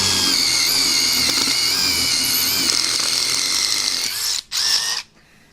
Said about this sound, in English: I'm going to be drilling through this block here with the impact driver